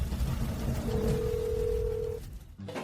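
A telephone rings on and on with no answer, one long steady electronic tone over a murky indoor background that cuts off near the end.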